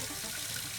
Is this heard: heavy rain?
no